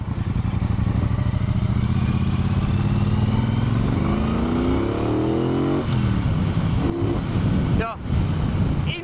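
A Triumph Bonneville Bobber's 270-degree parallel-twin engine revs loud and close, pitch climbing steadily under acceleration before dropping off at a gear change and pulling again.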